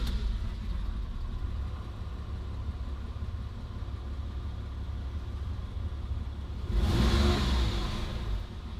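A Porsche 911 engine idles steadily, then rises into a brief rev with a roaring swell before settling back down.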